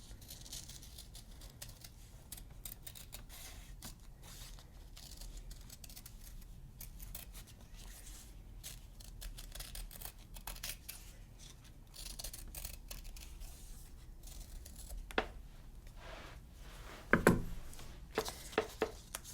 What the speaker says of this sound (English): After this, you cut round on the line.